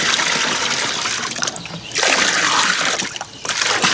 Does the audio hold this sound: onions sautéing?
no